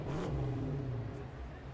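A car engine revving in the video game Lego City Undercover, a steady mid-pitched engine drone held through the whole short moment.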